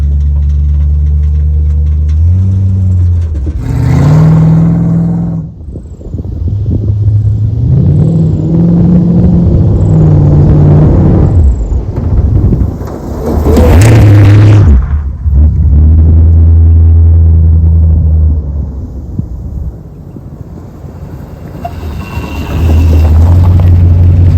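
Classic Dodge Dart with worn-out suspension out on a drive, a loud low engine rumble swelling and falling through gear changes and revs, close and continuous, with gusty wind noise.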